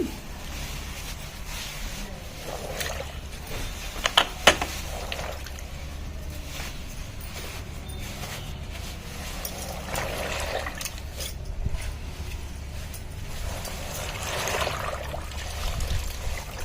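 A silk saree pushed down and swished through water in a half-filled bucket, with soft sloshing and trickling splashes, a few sharper drips, continuing in a quiet steady way throughout.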